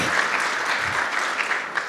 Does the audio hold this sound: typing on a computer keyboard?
no